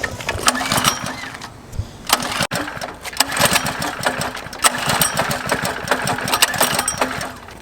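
Someone tries to start a small engine with the choke off, producing a close, uneven run of sputtering catches, rattles and clatter that never settles into a steady idle.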